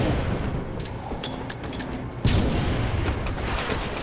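A rocket explodes in a video game as a sudden heavy boom midway, over an ongoing bed of rumbling battle noise and scattered sharp impacts.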